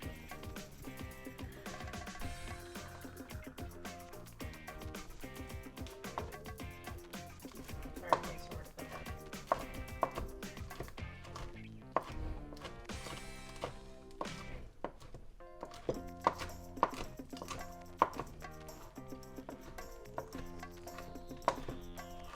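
Rapid knife chopping of gumbo ingredients on a cutting board, quick irregular taps repeating throughout, fairly faint with kitchen background.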